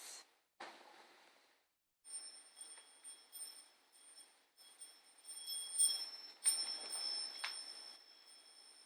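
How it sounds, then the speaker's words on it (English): A high, bright bell rings repeatedly, its sustained metallic tones shimmering and overlapping over several seconds with no voices, close and moderately loud. "ring that bell, okay? That bell helps align the words and thoughts and deeds"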